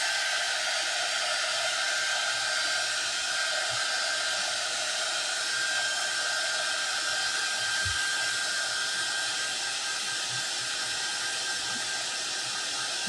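Hair dryer blowing on wet paint on a small Dollar Tree craft ghost, a steady loud whooshing hiss with a constant motor whine running throughout.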